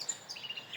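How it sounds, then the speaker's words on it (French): Birds chirping outdoors, high thin calls repeating in quick short notes, fairly faint and distant with no talk. "Laisse-moi écouter les chants des oiseaux, s'il te plaît, chien."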